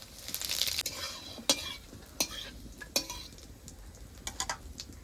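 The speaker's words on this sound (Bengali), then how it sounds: "এবার ফোড়নে দিয়ে দেবো দুটো তেজপাতা দুটো শুকনো লঙ্কা কটা গোটা জিরে" Bay leaves, dried chillies and whole cumin seeds tossed into hot oil for cabbage with soybean chunks, a soft sizzle broken by several sharp clinks and scrapes of a spatula against the pan.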